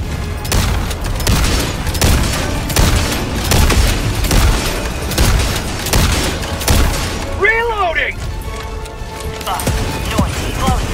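Cannon fire from a called-in cannon in Helldivers 2, loud repeated booming blasts in a dense battle mix, followed by whistling and shattering effects.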